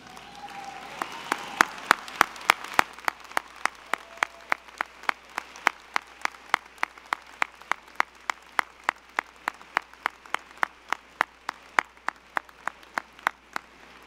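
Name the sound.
graduates applauding their families at commencement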